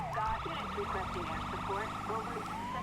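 A CHP-style wailing siren sweeps on a New Jersey State Police cruiser in GTA 5, running continuously and fairly loud over engine noise and radio chatter, with a voice talking underneath.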